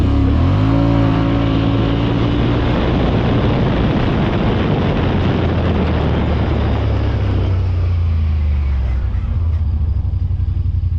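A Yamaha Wolverine X4 side-by-side fitted with a JBS clutch sheave accelerates hard in low gear, a loud, close engine roar rising in pitch as it revs through the run.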